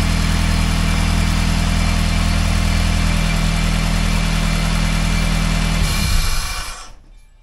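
Honda K20A2 four-cylinder engine idling with its intake ports exposed, a steady, loud mid-pitched rumble that holds evenly for about six seconds before the engine is shut off and the sound dies away.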